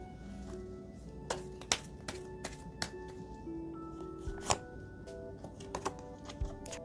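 Tarot cards being shuffled and drawn from the deck, giving quiet scattered taps, flicks and soft slides at an irregular pace, close by, with no talking.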